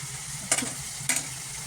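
Fish with salt and turmeric powder frying in a pan, a low steady sizzle with two sharp scraping stir strokes close by, no talk.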